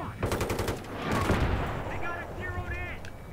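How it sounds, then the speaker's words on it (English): Rapid automatic gunfire in Battlefield 3, a close burst of shots followed by a heavy explosive blast and rumbling debris, with game effects and chirps trailing after. "you did not just shoot me with the rocket launcher"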